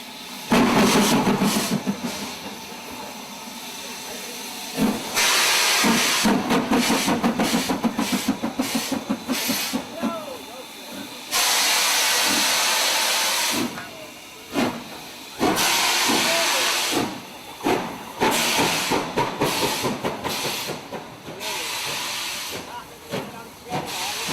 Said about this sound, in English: Just listen to the symphony of sound as the Black 5 departs.